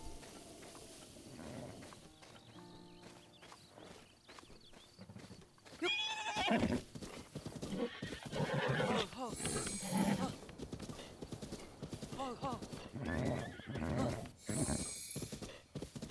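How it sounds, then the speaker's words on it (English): Horses in the video game Breath of the Wild whinny and neigh several times over hoof clip-clops and ambient sounds, loud and close in bursts, with a voice occasionally audible. "Oh, horses! Little horses!"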